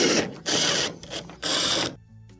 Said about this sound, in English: Go around and reinstall all of our screws.